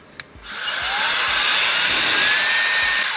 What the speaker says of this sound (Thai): พัดลมตัวนี้ผมเปิดให้ดูนะแรงสุด